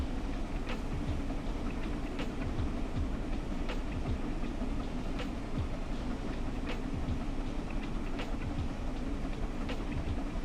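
Train running steadily in Train Sim World 4, a continuous loud rumble of the wheels with faint rhythmic clicks from the rails throughout.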